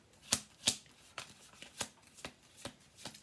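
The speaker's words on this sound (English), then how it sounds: "We'll do a couple shuffles," Playing cards being shuffled up close, a series of crisp riffling bursts with a couple of louder snaps at the start, then lighter evenly spaced rustles, quiet and with no talking.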